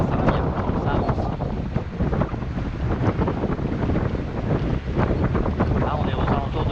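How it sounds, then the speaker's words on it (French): A wind gust roars across the microphone aboard a sailboat at sea, a loud continuous rushing with water noise beneath it, while someone talks over it. "là on a une belle petite rafale qui nous arrive dessus"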